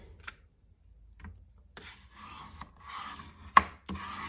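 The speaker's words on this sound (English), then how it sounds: "So fold and burnish it" A scored sheet of card measuring 5 3/4 by 11.5 inches being folded and burnished, heard as soft close rubbing and scraping strokes with a sharp snap of the crease, faint and intermittent.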